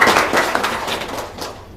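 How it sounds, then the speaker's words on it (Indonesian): An audience claps at a seminar, a brief burst of scattered hand claps that fades over under two seconds. "Tepuk tangan dong."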